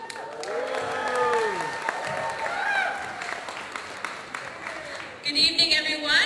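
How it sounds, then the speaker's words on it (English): An audience applauding and cheering at the Miss Manila 2011 pageant, a steady wash of clapping and crowd noise that swells and fades, with voices calling out over it and a brief burst of music near the end. "I can hear you backstage cheering on your respective candidates"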